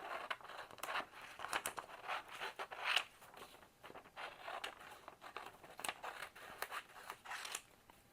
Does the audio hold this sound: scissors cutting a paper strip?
yes